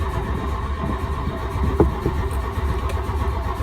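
A barn-find MK1 VW Golf GTI engine with freshly cleaned injectors cranks steadily as it tries to start, a low mechanical churn with one sharp knock partway through.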